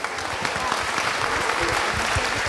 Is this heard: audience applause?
yes